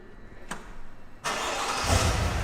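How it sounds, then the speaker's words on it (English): A 2021 Cadillac Escalade starts remotely from its key fob: a soft click and a brief hum, then the engine catches with a sudden rush and settles into a loud, steady idle that swells slightly, close by and heard alone. "What you can do to start up the car is press this on the key"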